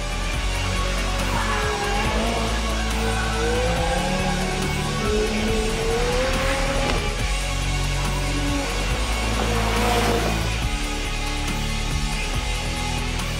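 Second-generation McLaren Super Series car drifting on a track, its engine droning steadily with rising and falling tire squeal and engine pitch sweeps, sustained and fairly loud throughout.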